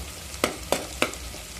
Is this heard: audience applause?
no